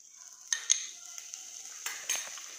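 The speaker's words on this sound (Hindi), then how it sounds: "अब मेल्टेड बटर में हम डालेंगे गार्लिक" Garlic fries in melted butter in a pan, giving a steady, bright sizzle with a few sharp clinks of a utensil against the metal.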